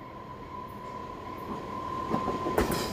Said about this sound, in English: On this trip, Amtrak Cascades number 513 is running late south to Seattle